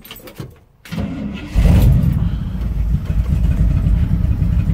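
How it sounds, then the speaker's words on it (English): A 1970 Chevrolet C10 pickup's big-block engine, not run in years, cranks briefly, catches and roars to life, then settles into a loud, rough idle close by. "Let's fire the truck up."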